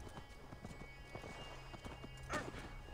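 Horse hooves in the video game Assassin's Creed Valhalla clip-clop in a steady, quick rhythm at low volume, with a faint snort or whinny partway through.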